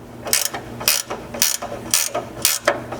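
A wrench ratchets as it tightens the bolt and nut on a Ford Ranger skid plate, five or six crisp clicking bursts in an even rhythm, close and clear with no talking.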